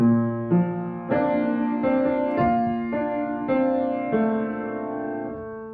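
Solo piano melody from a song from Julie and the Phantoms, a run of about eight clear, sustained notes played at a steady, unhurried pace, close and moderately loud with each note ringing into the next.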